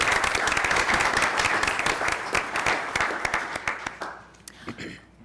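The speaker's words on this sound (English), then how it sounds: "we always give them a round of applause even though they're not here." Applause at a school board meeting, a room of people clapping steadily for several seconds before thinning into scattered claps, with faint talk underneath.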